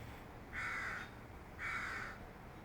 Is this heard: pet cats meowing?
no